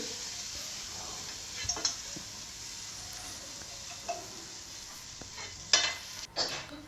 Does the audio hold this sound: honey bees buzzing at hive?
no